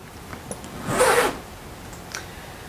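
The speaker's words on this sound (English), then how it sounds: "It does have a really nice zip to it." The brass zipper on a Louis Vuitton Keepall 50 bag is pulled once in a quick, smooth zip lasting about a third of a second. A few faint clicks of the pull come before and after it in an otherwise quiet space.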